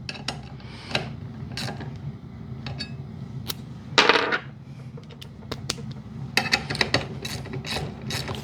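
Ratchet driver tightening hex and Torx extractor bits back into fasteners, giving brisk bursts of close, crisp clicking with pauses between runs and a louder flurry midway.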